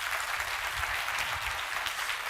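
A church audience gives encouraging applause at a talk event, a steady wash of many hands clapping that runs unbroken through the whole moment.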